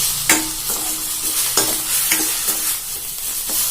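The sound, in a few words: sautéing manathakkali greens in a pan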